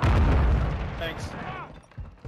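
Pistol fire in a Search and Destroy shooter video game: one loud, booming shot at the start that decays over about two seconds into a fading rumble.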